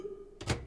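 A door in the Roblox horror game Mimic VIGOR swings open with a single dull thunk, brief and close, after a faint steady hum.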